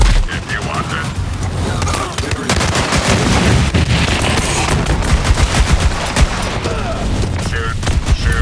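Rapid automatic gunfire and explosive bursts rattle almost nonstop through a Borderlands 3 firefight, loud and dense, with a voice talking over the shooting.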